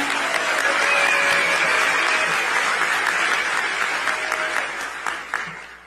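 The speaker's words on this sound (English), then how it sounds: "can we get a round of applause for Jody Gershon?" Loud, sustained applause from a crowd at the NMPA annual meeting awards, steady clapping that fills the space and tapers slightly toward the end.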